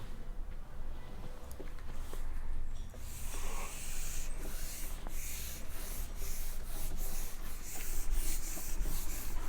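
A drawn figure is rubbed off a board with quick, repeated scrubbing strokes that are close and fairly loud. The strokes grow denser after the first few seconds, and nobody speaks.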